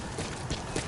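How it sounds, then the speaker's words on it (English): Horse hooves clip-clopping in Metal Gear Solid V: The Phantom Pain over a steady game ambience, with a few soft, irregular thuds rather than a crisp gallop. "So we get a horse."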